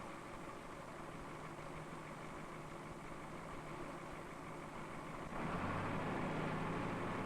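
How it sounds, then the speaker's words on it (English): A heavy work machine's engine idles as it warms up, giving a steady low rumble that steps up louder near the end, with no talk. "Harry starts the machine in order to judge the problem. While he waits for the engine to warm"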